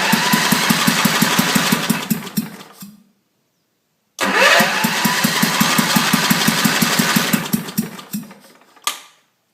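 Small gasoline engine on a wood chipper, run without its carburetor on a shot of gas, sputters loudly to life, dies into silence, then fires again for several seconds of rough, pulsing running before cutting out.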